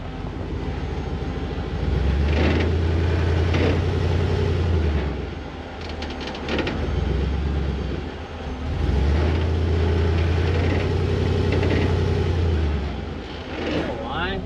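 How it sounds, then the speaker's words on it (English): A Coyote-swapped Ford F100 truck attempting a burnout: a loud, close engine revs up and holds a heavy low roar twice, easing off between the pulls, with people talking over it. "I'm gonna try burnout"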